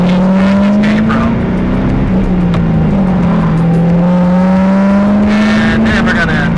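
A car pulls away from a car wash, its engine droning loud and close from inside the cabin with rising and falling revs.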